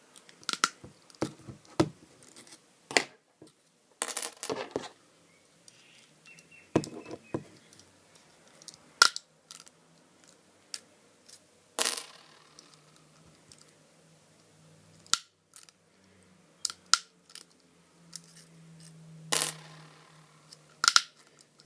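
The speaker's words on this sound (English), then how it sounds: "the wire clippers will only cut a certain amount" Wire clippers snip aluminium wire piece by piece, sharp isolated clicks and crisp cuts scattered irregularly at close range with light handling rustle between them and no talking.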